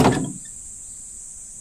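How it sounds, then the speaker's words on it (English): A door opening sound effect in the visual novel game Natsukiri: Summer Vacation at Kirishima, a single short thud-like sweep at the start, then fading into a quiet steady hum. "after a moment the door opened"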